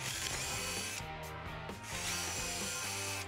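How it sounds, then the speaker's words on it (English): A power drill whirs steadily, pre-drilling pilot holes into wood, its pitch dipping briefly as the bit bites, then revving back up; close and loud with no talking. "we want to pre-drill these holes to prevent any cracking or splitting in the future"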